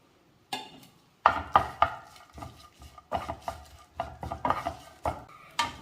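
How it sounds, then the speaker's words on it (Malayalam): A handful of washed, headless dried shrimp are dry-roasted without oil in a hot pan, producing close clattering stirs and scrapes in uneven bursts with quiet gaps. "ഇത് ചൂടായ പാനിലേക്ക് ചേർത്തൊന്ന് വറുത്തെടുക്കാം"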